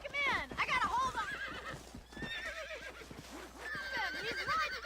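A horse neighs and whinnies repeatedly while being broken in, in the Red Dead Redemption video game, with hoof clip-clops and game voices talking over the struggling animal.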